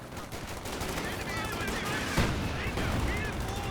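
Gunfire in Company of Heroes 2, rapid machine-gun bursts and rifle shots rattling steadily with a sharp blast near the middle, under someone commentating.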